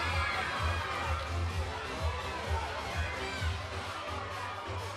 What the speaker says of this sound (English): You can see the cheering and all the people around, the huge race village we have here.